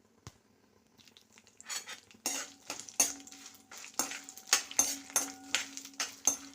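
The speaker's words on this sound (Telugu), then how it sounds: "ఇప్పుడు దీన్ని వేయించుకుంటాను" Dried red chillies, fenugreek seeds, urad dal, mustard and cumin seeds fry in oil for a tempering, with repeated close scraping and stirring clatters of a spoon against the pan over a light sizzle.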